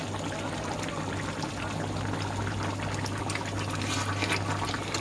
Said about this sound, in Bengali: আমার মাংসটা কি সুন্দর টকবক করে ফুটছে।